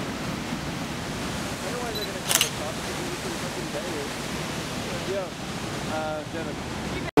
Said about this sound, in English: we're here at the waterfall.